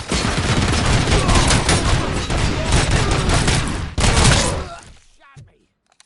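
Dense, loud gunfire from RoboCop: Rogue City rattles continuously in heavy overlapping bursts with thuds. A voice shouts amid it before it cuts to quiet at the end.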